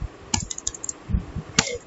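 A few scattered keystrokes on a computer keyboard, sharp clicks spaced irregularly with a heavier thump near the end, close and fairly quiet with no speech.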